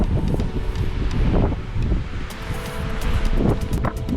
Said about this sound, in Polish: Wiatr nie ustępuje